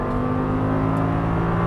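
An Audi R8 V10 rated at 525 hp pulls hard under throttle on a Las Vegas track, a steady, loud, close engine drone with dense harmonics that holds throughout and has no talk over it.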